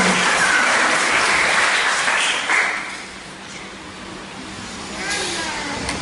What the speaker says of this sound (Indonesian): Ini tepuk tangan jangan ragu-ragu.